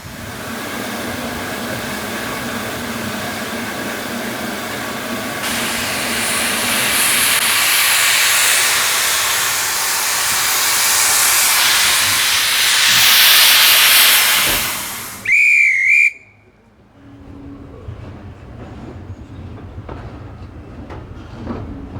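A steam locomotive on the North Yorkshire Moors Railway hisses loudly and steadily, rising to a roar before a short sharp whistle blast cuts through, then the sound drops to a quieter idling rumble.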